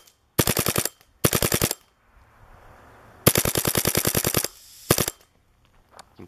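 A Boston Reflex Mini Cocker paintball marker fires in rapid full-auto bursts of sharp pops as its piston cycles. Four loud, close strings of shots are separated by short pauses, with a faint hiss between them.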